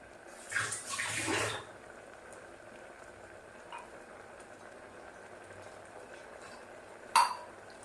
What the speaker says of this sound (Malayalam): കുറച്ചും കൂടി വെള്ളം ഒഴിച്ച് കൊടുക്കും.